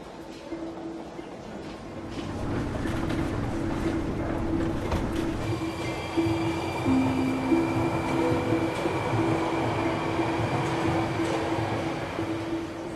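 A long-distance train pulls into a Moscow station in the early hours with a rising rumble, steady rolling noise and a sustained squealing brake whine, loud and close.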